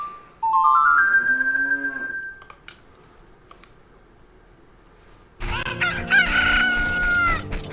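Rooster crowing in The Legend of Zelda: Ocarina of Time, a rising cock-a-doodle-doo call near the start, then a burst of overlapping louder game sounds with more crowing after a quiet gap.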